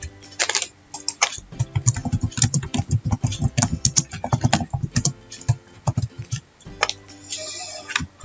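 Someone types a quiz title on a computer keyboard, giving a fast, uneven patter of close key clicks that runs for several seconds, with quieter stretches at the start and end.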